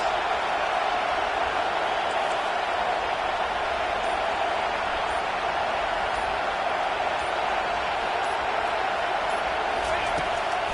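Football stadium crowd at a Michigan versus USC game roaring steadily behind the defense on a big third down, a loud, sustained wash of cheering with no clear breaks throughout.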